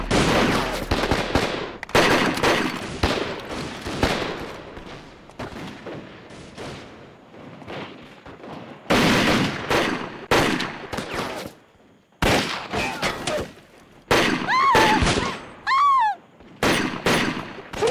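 Bursts of gunfire in a martial arts action film shootout, loud and near, firing in repeated volleys with short gaps between, some single sharp shots cutting through.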